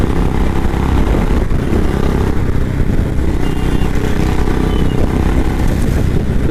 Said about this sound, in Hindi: और भाई आज बुलेट चला रहे हैं, काफ़ी इंटरेस्टिंग है बुलेट।